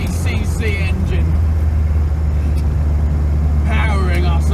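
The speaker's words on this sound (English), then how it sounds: "The mighty 850cc engine" A Reliant Robin's 850cc engine droning steadily as the car climbs a medium hill, a loud low hum heard from inside the cabin while someone talks over it.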